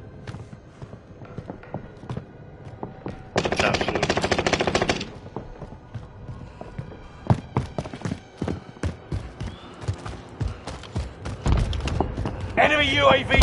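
A shooter video game fills with gunfire: a loud sustained burst of automatic fire, then a scatter of sharp single shots and thuds, another rapid burst at the end, with voices talking over parts of it.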